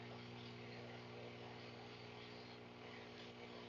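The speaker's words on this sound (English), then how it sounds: "Trans Mountain helicopter." A helicopter's steady, droning rotor-and-engine hum runs unbroken throughout, a low continuous aircraft roar with a faint buzzing edge, fairly distant and even in loudness.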